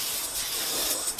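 Finish sprayed onto a wooden box makes a brief, steady, close hiss that holds evenly for about a second before a slight dip and a short burst at the end.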